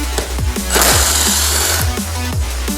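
A power tool spins out a seat bolt on a 2017 or later GSXR 1000 motorcycle, a loud close buzzing whir with a sustained high-pitched burst in the middle and stuttering impacts around it.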